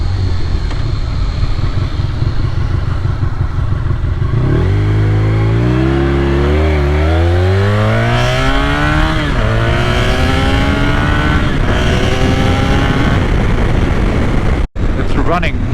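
A Honda VFR1200F motorcycle with an Akrapovic slip-on exhaust pulls hard and revs up through the gears, its engine pitch climbing and then dropping again under steady wind roar. A rider speaks briefly over the engine noise.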